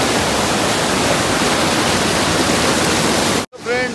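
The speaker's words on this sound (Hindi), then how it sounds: "तो ऐसे आता है पहाड़ों में गदेरा, मतलब यू व्यू है गदेरे का और इतना सा पानी है।" A mountain stream swollen after heavy rain in the hills rushes as a loud, dense, continuous roar of water close by, cutting off abruptly near the end, followed by a brief burst of talk.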